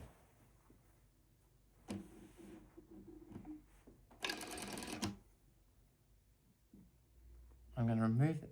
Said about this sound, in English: We will now proceed to stitch on that diagonal marking there.